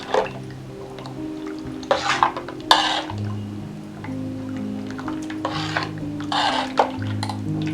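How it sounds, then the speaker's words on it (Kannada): Avarekalu upsaru, a field-bean gravy, is stirred after spice mix and water go in: intermittent scraping, sloshing bursts from the pot come and go over a steady tonal background. "ಸೇರಿಸ್ಬಿಟ್ಟು ಆ ಉಪ್ಸಾರು ಅಲ್ಲಿರೋದೇ ನೀರು ಹಾಕಿ ಸ್ವಲ್ಪ ಮಿಕ್ಸ್ ಮಾಡೋಣ"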